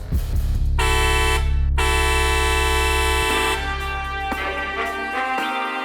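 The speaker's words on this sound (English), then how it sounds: "Basically a train horn." A loud, deep multi-tone train horn mounted on an ATV, run at about 125 PSI, blasts in long sustained notes, sounding close and powerful with short breaks between blasts.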